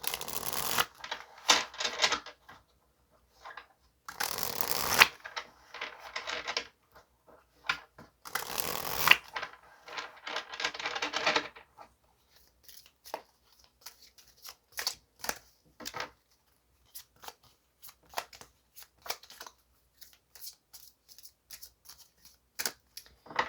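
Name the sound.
shuffling and drawing tarot cards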